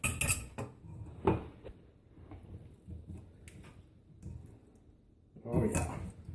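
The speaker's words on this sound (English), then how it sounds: "we'll mash it and use the back of our spoon to further get all the" A spoon clinks and scrapes against a measuring cup while mashing elderberries, giving a few sharp knocks and softer scraping between them, with a person talking over it.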